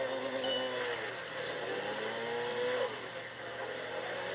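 A turbocharged 1.8-liter double overhead cam engine in a Tokyo Xtreme Racer 2 street race hums steadily at moderate volume, its tone rising and falling through shifts, with no talking.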